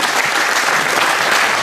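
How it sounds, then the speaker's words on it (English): A group breaks into brisk applause during a basketball drill session, dense and loud clapping sustained throughout the short moment, with no voices over it. "Give me a little round of applause for that."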